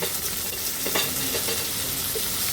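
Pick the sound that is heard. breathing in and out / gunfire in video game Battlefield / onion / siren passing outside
onion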